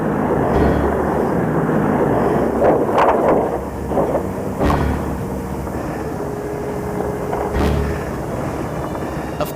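A 17,000-pound propeller airplane rumbles on a snowy, icy runway, with a steady engine roar, gusty wind buffeting and occasional thumps and rattles close to the microphone.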